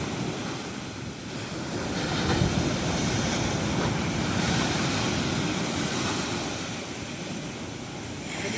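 Ocean surf pounds the shore near a beach resort in a steady, roaring wash of waves. Wind buffets the microphone, and no voices are heard.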